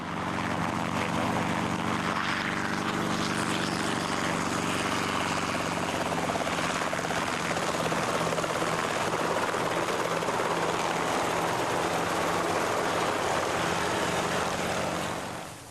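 A 2.5-ton helicopter in flight, its rotor blades producing a steady, loud, continuous throbbing drone with engine hum that holds evenly throughout, with no voices.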